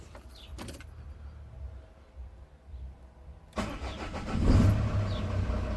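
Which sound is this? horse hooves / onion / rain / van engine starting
van engine starting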